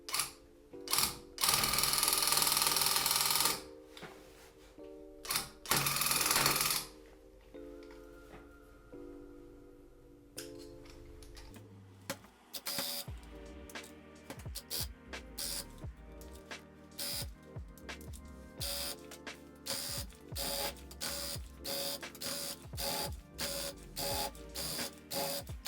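A rug tufting gun punching yarn through tightly stretched fabric runs in loud, rapid mechanical bursts with a chattering ratchet-like rhythm, broken by short pauses and hissing spray-like stretches, close-up with no talking.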